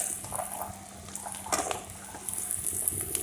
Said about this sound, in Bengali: পেঁয়াজটা একটু ভাজা ভাজা হয়ে গেলে এতে আমি দিয়ে দিচ্ছি চিড়ে রাখা কাঁচা লঙ্কা। এবার আমি দিয়ে দিচ্ছি গাজরগুলো,